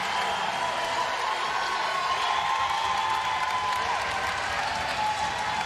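Home crowd at a UConn versus Providence college basketball game roaring and cheering in an arena, a dense sustained wash of applause and shouts, steady and loud throughout, with an announcer's voice faintly mixed in.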